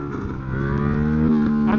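A Yamaha MT07 motorcycle engine revving hard in first gear during a wheelie, a loud rising harmonic drone over a short burst.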